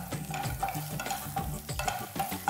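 Minced ginger and garlic fry in a hot pan for chicken noodles, a steady close sizzle broken by repeated scraping stirs with no talking.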